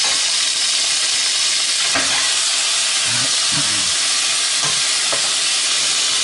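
Beef browning in oil in a pot for boeuf bourguignon, a loud, steady hiss and sizzle with a few clinks and stirring knocks, no voices.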